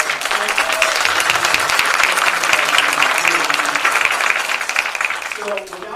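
Warm applause rolls through a naturalization ceremony in Putnam County, New York, a room of hands clapping for Judge Everett, loud and continuous before easing off near the end as a voice begins.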